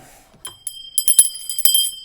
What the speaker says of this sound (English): Ring the bell, the notification bell.